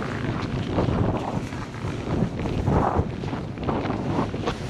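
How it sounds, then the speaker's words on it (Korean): Strong wind roars and buffets the microphone outdoors at night on a high mountain plateau in Pyeongchang, a continuous loud rushing with gusty swells throughout and no talk. "바람이 장난 아닌데?"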